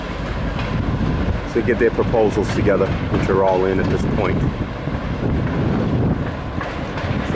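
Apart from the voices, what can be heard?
train going by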